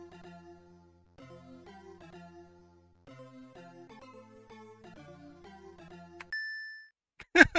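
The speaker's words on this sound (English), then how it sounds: "So just that weird bell sound" A run of soft chiming bell-like tones in a simple tune from the video game Hooray for Henrietta, ending on a single sustained electronic ding followed by a brief louder burst.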